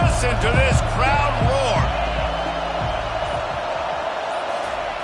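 A packed stadium crowd at a college football game roars in a steady, loud wash of noise that carries on after an announcer speaks over the opening seconds.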